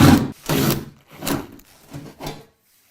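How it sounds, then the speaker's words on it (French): Screws under a roller shutter box being turned out with a hand tool, giving a series of five rough, scraping bursts that grow shorter and fainter, close by with no talking. "on va devoir dévisser les deux vis sous le coffre"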